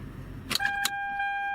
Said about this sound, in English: able to turn the key and start the engine as well